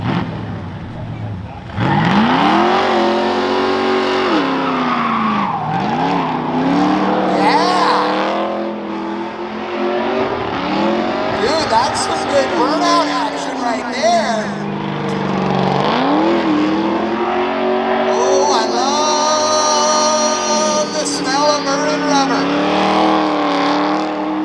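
A Mopar car does a burnout at a live contest, its engine revving hard and rising and falling in repeated surges with tire squeal, while a crowd cheers and people talk loudly throughout.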